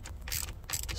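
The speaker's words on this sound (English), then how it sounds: "Lefty loosey, righty tighty, and you'll be able to get that bolt free." Ratchet wrench clicking as it loosens a bolt during turn signal replacement on a 2004 GMC Envoy, a close, rapid mechanical ratcheting in two quick bursts over low background noise.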